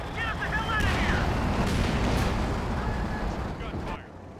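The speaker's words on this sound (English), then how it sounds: "Gunfire." Continuous heavy gunfire and rumbling explosions fill a Company of Heroes 2 battle, with shouted voices mixed in, before the noise drops off abruptly near the end.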